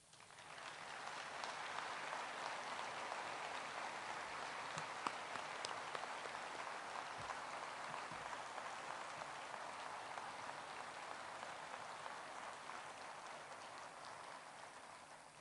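A crowd at a veterans' wreath-laying ceremony at Arlington applauds steadily, a dense, even patter of clapping heard from a distance that swells in and holds for the whole stretch before fading slightly.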